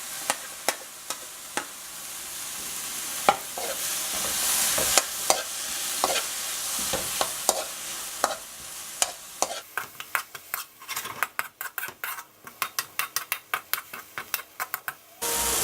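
Tomato sizzles in a hot pan while a utensil stirs and scrapes it, sparse taps at first giving way to fast, rhythmic clinks over a soft, steady frying hiss, with no talking.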